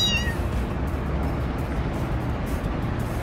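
A Pomeranian-hunting-for-lost-kittens outdoor scene with a brief cat meow at the very start, faint and distant, quickly fading into a steady low rumble of background noise with no talking.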